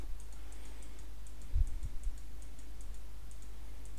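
Keys on a graphing calculator are pressed in a few soft, close clicks over a low steady hum, with no voices.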